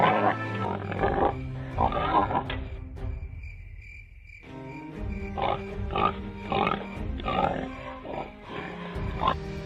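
A cartoon man-eating wild boar grunts and snorts amid a dense animated soundtrack, with a steady insect-like chirring drone and repeated rough bursts, loud and continuous, pausing briefly midway.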